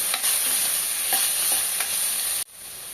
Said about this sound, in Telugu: ఆలు ఇంకా స్వీట్ కార్న్ అన్నీ యాడ్ చేసుకొని బాగా ఫ్రై చేసుకోవాలండి